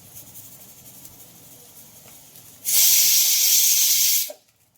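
Bhaji fritters frying in hot oil for a home-cooked meal, with a soft background murmur before a loud, steady sizzle bursts in for about a second and a half, then cuts off abruptly.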